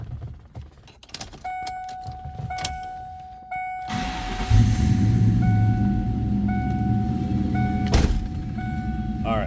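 A 1998 Ford Mustang SVT Cobra is started and settles into a steady, loud idle after a short cranking, with some clicks and a faint electronic chime beforehand and no talking over it.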